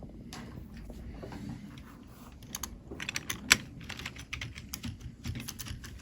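Typing on a new computer keyboard, a quick irregular patter of close key clicks that grows busier and louder in the second half, with one sharper tap standing out.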